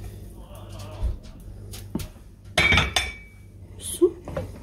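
A metal pot clinks and scrapes in a home kitchen as golden fried vermicelli is poured onto cooking lentils, with several sharp clatters and soft knocks close by and low background hum.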